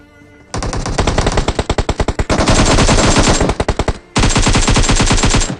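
Loud, close automatic gunfire in PUBG Mobile, with several long rapid bursts of shots separated by brief pauses.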